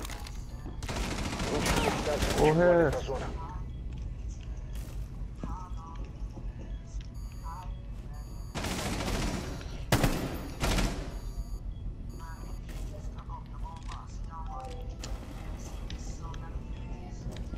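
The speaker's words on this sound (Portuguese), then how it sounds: "Vai dar aqui que eu tô levando tiro." Bursts of rapid gunfire crackle loudly in the video game Rainbow Six, dense volleys at the start and again midway, with scattered shots and a voice speaking in between.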